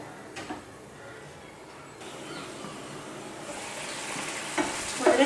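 Spicy chilli chicken masala sizzles softly in a pan while a spoon stirs through it, a low, steady frying hiss with a few scraping stirs that grow slightly louder toward the end.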